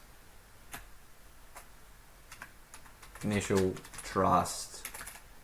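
Faint, sparse keyboard taps on a computer keyboard at a desk while working on a Shopify store, a few scattered clicks before someone briefly speaks.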